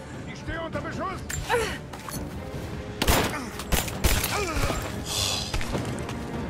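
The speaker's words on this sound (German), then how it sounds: "Ich stehe unter Beschuss." Bursts of gunfire in a firefight in the video game Rise of the Tomb Raider, loud cracks and rapid volleys mixed with breathy gasps and grunts from the character.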